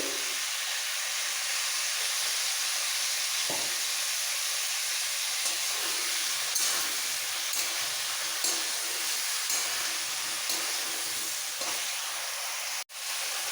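Vegetables for a coconut sukto fry in oil while being stirred, giving a steady, even sizzling hiss throughout with faint stirring scrapes and no talking.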